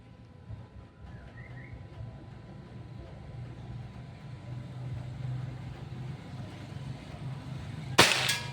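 A Pajero Gun Gen 6 air rifle fires a single sharp, loud crack near the end, during an accuracy test in Cilamaya, West Java. A steady low outdoor hum fills the moments before the shot.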